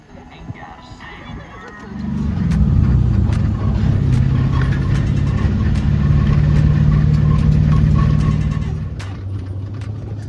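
A wide, long, powerful off-road dune buggy crawls over desert wash terrain. Its engine swells from a quiet start into a sustained, rumbling drone that holds for several seconds, then eases back down.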